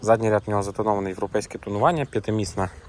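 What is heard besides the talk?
No distinct noise like a dog, phone or traffic.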